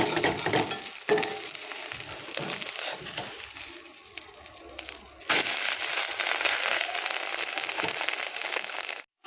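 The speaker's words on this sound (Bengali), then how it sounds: "ছেলের জন্য ডিম ভাজা হচ্ছে" An egg frying in a pan on a home gas stove gives a continuous crackling sizzle, rising in bursts with scraping and stirring noises, then dropping away at the end; no one speaks.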